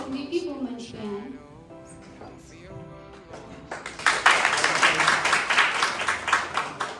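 At an eye hospital's foundation day celebration, a voice over the sound system gives way to a dense burst of audience clapping that swells suddenly and keeps going steadily to the end.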